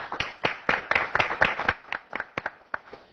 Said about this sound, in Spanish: Los recibimos con un aplauso.